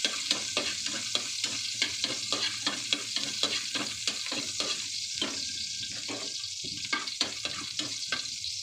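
Pork with garlic fries in a pan for homemade menudo, a soft continuous sizzle under rapid, rhythmic spatula scrapes and taps that come close together, then slow with short pauses before resuming.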